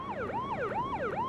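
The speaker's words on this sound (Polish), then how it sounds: "Słyszycie to? Syrena policyjna." Police siren wailing in a steady rising and falling sweep, about three cycles, loud and close with no other sounds over it.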